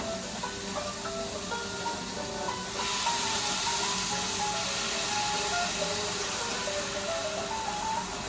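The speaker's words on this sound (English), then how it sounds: "Then we have to deglaze our pan with our stock." Stock poured into a hot pan of chicken and mushrooms, a steady sizzling hiss that swells louder partway through and keeps bubbling, with faint kitchen tones underneath.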